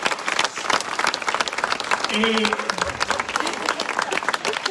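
Audience applause at an outdoor concert by a band in Borgo Val di Taro, dense clapping from a crowd throughout, with someone speaking over it and a brief sustained tone in the middle.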